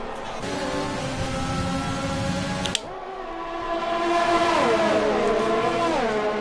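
Race cars at an RRC Tuesday night race accelerate hard, engines droning loudly with rising pitch after a brief click, several cars blending into a sustained, building roar.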